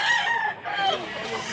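A tall, large fighting rooster crows once nearby, a loud, drawn-out call with a brief break partway through, over faint background sound.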